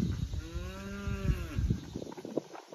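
Cattle on a farm give a single long, deep moo close by, with rustling and movement around it.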